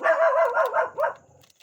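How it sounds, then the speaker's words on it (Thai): A small dog at a rural home yaps in a quick run of about four sharp, high barks and yips, close by, then goes quiet. "อย่าไปเห่าเขาเลย ลูก"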